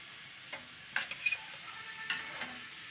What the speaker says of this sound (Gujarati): ધીમે ગેસે આપણે સળવા દેવું ને એટલે બધું અંદરથી આપણે બટેટા ને ચણાનો લોટ એ બધું સરસ પાકી જાય